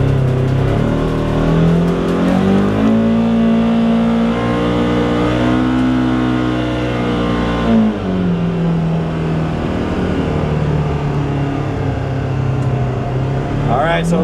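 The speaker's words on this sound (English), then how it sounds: "Gonna give it a little rip." A Polaris Xpedition engine with a Trinity exhaust revs inside the cab, its loud droning note rising and falling in long sweeps through the whole stretch, steady and close.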